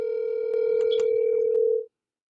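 A steady telephone dial tone hums alone for almost two seconds while a call is being placed, then cuts off sharply, with a few faint clicks and bumps underneath.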